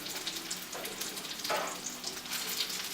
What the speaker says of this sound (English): I'm going to flip these in the pan.